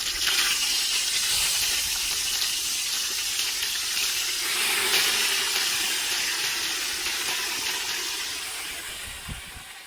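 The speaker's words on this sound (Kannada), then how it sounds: "ಈಗ ಬರ್ರಿ ಮೀನು ಹಾಕೊಂತಾರ." Fish frying in boiling oil gives a loud, continuous sizzling hiss at close range, steady throughout and slowly easing toward the end, with no talking.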